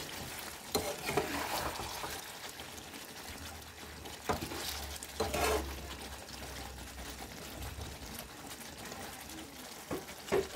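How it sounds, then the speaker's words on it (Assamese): Chicken curry being stirred in a pan over a low gas flame, with a soft continuous sizzle and scattered scraping stirs at moderate closeness, no talking. "এতিয়া মই অলপ লাৰি দিছো"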